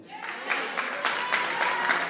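Audience applause at a Labour political meeting in St. Peter's, a steady wash of clapping from a room of people that swells slightly and continues throughout.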